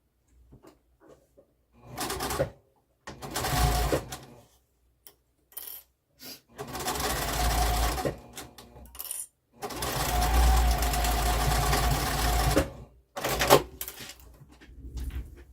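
A sewing machine stitches a pouch opening closed in several bursts of running hum. Short pauses separate the runs, with small clicks and handling noises between them.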